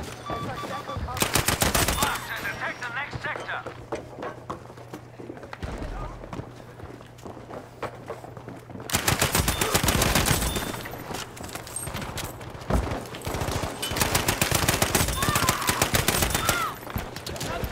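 Rapid automatic bursts from an M3 grease gun submachine gun in the shooter Battlefield 5, loud and close, in several long strings separated by quieter gaps with more distant fire and faint voices underneath.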